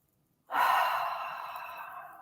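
A big, deep breath drawn in through the mouth after a brief silence, close and airy, swelling quickly and then slowly tapering off, with no talking.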